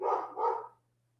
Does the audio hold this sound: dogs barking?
yes